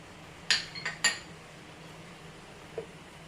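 A utensil scoops food out of a frying pan in a home kitchen, giving two or three sharp metallic clinks close together, then a faint single tap after a pause, over a quiet background.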